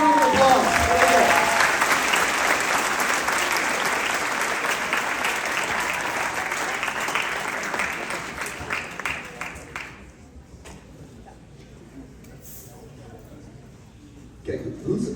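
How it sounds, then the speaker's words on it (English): A school homecoming assembly audience applauds loudly for students called up to the stage, a dense steady wall of clapping and crowd noise that fades out after about ten seconds, leaving near silence before a brief burst at the end. "Give them a round of applause."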